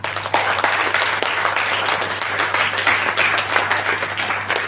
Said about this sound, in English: then you should clap, no?